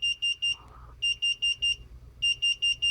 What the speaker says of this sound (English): So it's a tone, which I'm guessing is indicating that we have a drive failure of some kind.